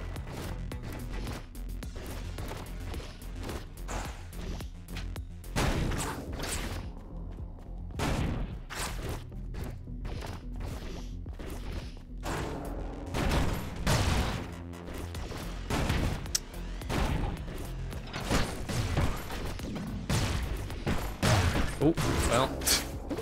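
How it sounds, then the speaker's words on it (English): Repeated grenade explosions and impacts in the video game Orbital Bullet, dense bangs and crashes scattered throughout at a loud, close level, with a person talking over the steady game noise. "I guess I'm not immune to my own explosives, isn't it? Even as the explosive expert dude."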